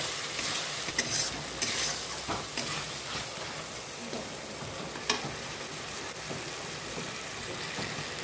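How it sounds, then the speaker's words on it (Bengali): Spice paste with turmeric and chilli powder stir-fried in a pan, a steady close sizzle broken by scraping strokes of the spoon and a sharper clack near the middle, with no talking. "মশলাটাকে ভালো করে কষানো হচ্ছে।"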